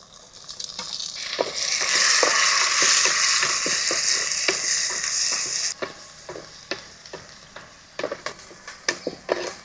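Onion, green chilli and tomato pieces hit a hot pan for chicken keema, giving a loud, steady sizzle for several seconds that then drops back to lighter frying under repeated stirring clinks and scrapes.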